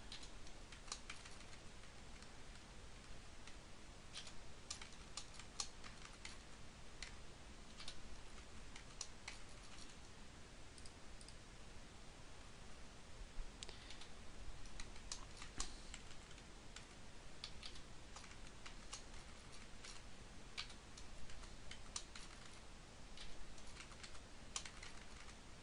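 Rapid, dense keyboard typing clicks run continuously at an even, fast pace, a simulated typing sound with no talking over it.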